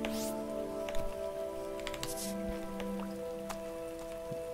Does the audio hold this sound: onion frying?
no